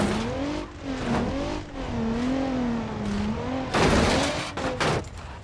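An 80s luxury sports car, the Soliad Wendover, drives off-road in BeamNG Drive, its engine droning and wavering in pitch, then heavy rough crashing and rattling bursts as it bounces over terrain.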